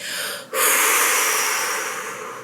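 A long, breathy exhale follows a brief pause, a steady airy rush of breath lasting about two seconds, close and alone during a guided relaxation exercise.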